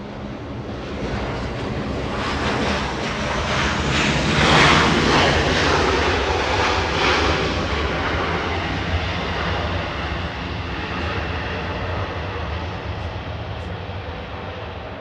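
A Southwest Boeing 737 roars steadily as it takes off from runway 24 left at LAX. The broad jet-engine rumble builds, peaks, then slowly eases across the whole stretch, with no talk over it.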